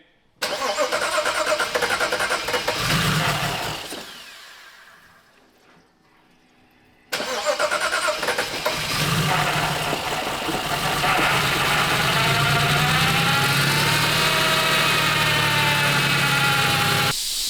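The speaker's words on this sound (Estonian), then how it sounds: "Aitäh, Sander, auto käib." A BMW E92 engine cranks and fires into a loud, steady idle after a brief cranking burst and a few seconds of near silence, the running engine close and continuous to the end, with no talk.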